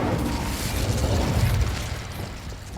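Incendio fire spell cast in Hogwarts Legacy, a steady rumbling burst of flame with low roaring energy and crackling texture, loud and continuous for a few seconds, no voices.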